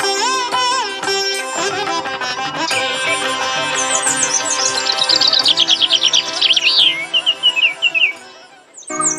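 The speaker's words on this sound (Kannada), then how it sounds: "ಹಕ್ಕಿಗಳ ಕೂಗಾಟ ಮನಸ್ಸಿಗೆ ಹರ್ಷ" Recorded birdsong backing a school annual-day forest scene, with bright varied chirps and trills, some rapid repeated warbling notes, ringing loud over faint musical tones before fading out at the end.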